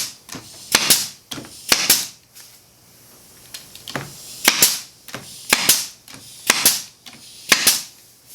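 Tack nails hammered into wood for a decoration, sharp close hammer strikes in quick pairs and short bursts with pauses between, loud and alone.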